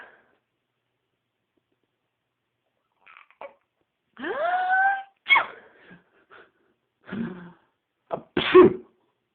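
A dog sneezes in a series of short, sharp bursts indoors, separated by silent pauses, with a person's voice imitating a sneeze among them.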